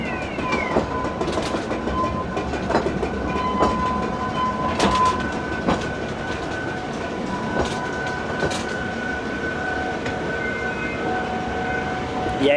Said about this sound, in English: Even better when a train comes.